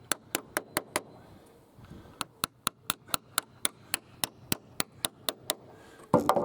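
A hammer drives a nail into a UPVC fascia polytop with a fast, steady run of sharp, loud strikes, pausing briefly before a second rapid series, with a louder thud at the end.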